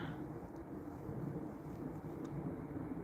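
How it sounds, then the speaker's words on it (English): An airplane flies overhead in the evening, heard as a faint, steady low rumbling drone that holds evenly throughout. "And we have an airplane going right above up there."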